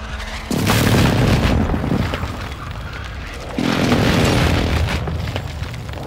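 Airstrike explosions in Call of Duty Warzone 2: two heavy, loud booms a few seconds apart, each followed by a long rumbling roll that fades slowly.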